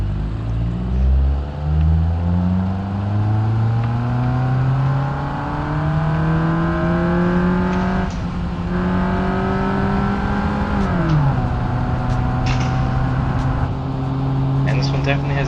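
An automatic 2005-2015 Volkswagen Touran accelerating in the driving simulator BeamNG, its engine rising in a loud, close whine through several gear changes, each shift dropping the pitch before it climbs again, with someone talking over it.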